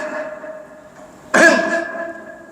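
A man clears his throat once with a short, forceful rasp, close and loud, above a faint steady background hum during a religious lecture.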